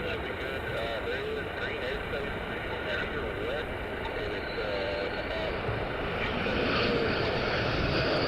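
A military aircraft flying near RAF Lakenheath, a loud sustained engine roar that holds steady throughout and swells slightly near the end, with faint voices beneath it.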